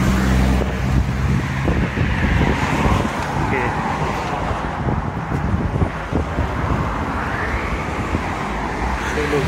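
Steady traffic rumbles along a main road in Sumqayit, Azerbaijan, with cars passing close and loud, wind buffeting the microphone, and a voice talking briefly over the road noise.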